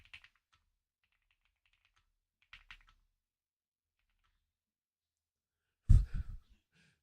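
A new computer keyboard typed on in a few short, sparse bursts of clicky keystrokes separated by silence, followed near the end by a louder breath or sigh.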